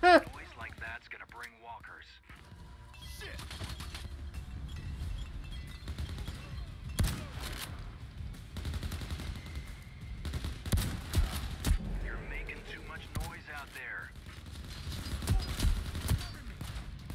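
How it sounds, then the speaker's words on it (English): Grenade blasts and gunfire in The Walking Dead PC beta game, a dense run of booming bursts and rattling shots that builds through the middle and again near the end, mixed with a voice talking over it. "Who's throwing grenades?"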